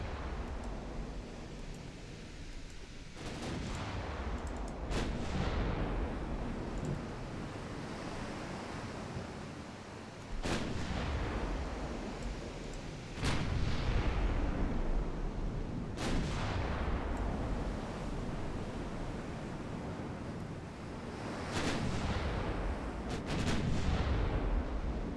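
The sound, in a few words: naval artillery fire in video game Ultimate Admiral Dreadnoughts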